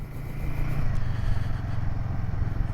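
Royal Enfield Himalayan 450 single-cylinder motorcycle engine running steadily up close, a dense rumbling drone with wind buffeting, no voices.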